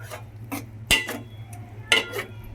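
A metal spoon scrapes and clinks in a pot of moringa leaf dal with salt and chili powder, a few sharp knocks at irregular intervals over soft swirling stirs, close and moderately loud, with a low steady hum underneath.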